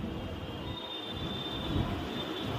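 A train pulls out of a platform on the Dumdum line heading toward Kolkata station, a continuous close rumble of wheels and carriages with a thin high whine held over it throughout.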